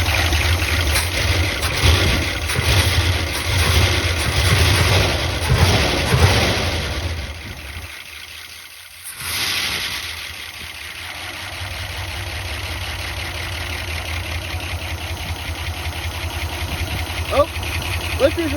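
A 1976 Ford F-250 farm truck engine idles steadily and loudly up close, its valve lifters settling down, with a brief dip in the running sound midway before the steady idle resumes.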